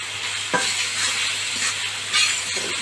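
Mutton curry with salt sizzles in oil as it is stirred, a constant close frying hiss with occasional scraping spoon strokes against the pot and no talking.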